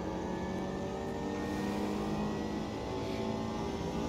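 Race car engine in the Automobilista 2 racing game, droning steadily at high revs in second gear, a continuous loud whine with harmonic tones throughout, heard alone.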